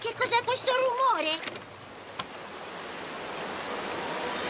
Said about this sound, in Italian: Oh, santo cielo, la cascata!